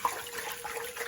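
Rice sloshes gently in water as it is washed for Korean rice porridge (ssaljuk), a short steady splash and swirl with no voices.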